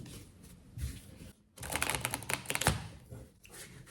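Petit Lenormand tarot cards being drawn and shuffled, with quick papery riffles and snaps in bursts, loudest in the middle, close and alone without talk.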